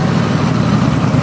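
A stock-block 5.3 LS V8 engine runs with a loud, steady low rumble, close by and alone, with no voices.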